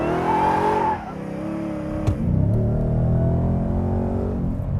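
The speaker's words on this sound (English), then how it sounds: "do we get intake sound from the supercharger?" A 2023 Ford Raptor R pickup with a supercharged V8 drives past, its loud engine rumble and supercharger intake note rising then easing, with a sharp brief knock midway and steady roar continuing.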